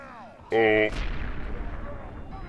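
A grenade blast in Medal of Honor Airborne, a loud burst that hits hard and then leaves a long rumbling decay with noisy tail, following a brief loud tonal sound just before it.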